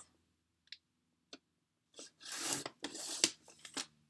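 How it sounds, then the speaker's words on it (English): Scissors cutting paper for a journal embellishment: a few isolated snips, then a quick run of crisp, close rustling cuts and clicks. "I'm just gonna cut this part"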